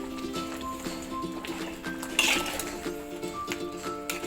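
A spoon stirring beef semur in a brimming pot of hot broth makes light metallic clinks and scraping taps at an uneven pace, fairly quiet and close.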